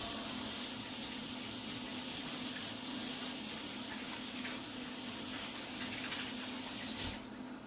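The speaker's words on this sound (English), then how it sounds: "I am going to rinse my hands" Tap water runs steadily into a kitchen sink while hands are rinsed, a loud, constant hissing splash with slight rubbing variations, broken off abruptly just before the end.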